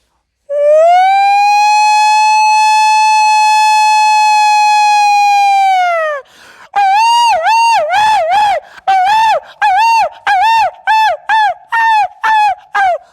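A voice imitates a jackal howling: one long, steady wailing howl held for several seconds, then a run of rapid, wavering yelping howls in short bursts, loud and close with no other sounds.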